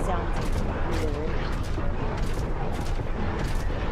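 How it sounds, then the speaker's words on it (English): Distant reactor explosion of a mech in the video game Mechwarrior 5, a dense, distorted rumbling roar with repeated bursts, steady and loud throughout the clip. "if you hear the explosion from a distance, it's kind of distorted and it sounds weird"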